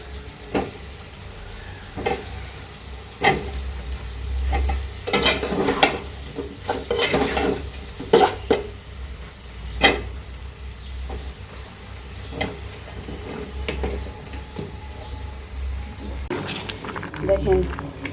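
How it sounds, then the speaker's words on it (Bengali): Potatoes and ridge gourd sizzle in a pan while a spatula repeatedly scrapes and clacks against it. Someone talks over the steady frying noise. "এখন তরি দিয়ে কষিয়ে দেব"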